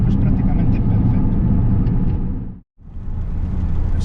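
A 1992 SEAT Toledo GT idles with a cracked, split exhaust, giving a loud, steady, raspy engine rumble that cuts out briefly near the end and then resumes.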